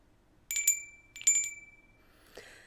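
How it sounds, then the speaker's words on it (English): A small handheld bell is rung in two quick bright bursts about a second apart, each ringing out briefly. A softer clink follows near the end. "they decided I needed this bell"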